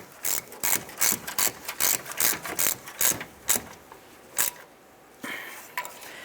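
A hand ratchet clicks in quick bursts while tightening starter bolts on a 2009-2020 Dodge Journey, a run of sharp close ratcheting strokes that slows and thins out toward the end, no talk.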